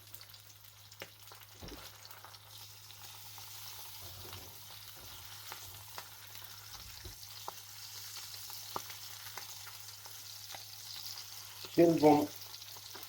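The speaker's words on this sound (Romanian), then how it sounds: "Punem puțin ulei de măsline și o să adăugăm macrou" Mackerel laid skin-down in olive oil in a hot pan, a soft continuous sizzle and crackle under a brief spoken phrase, with a louder clatter of pan handling near the end.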